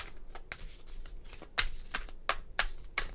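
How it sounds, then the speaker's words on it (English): Playing cards riffled and shuffled by hand, a deck that is stiff to shuffle, giving a series of short crisp rattling bursts, close and fairly quiet, with no talking. "Just want to give them a little bit of a good shuffle."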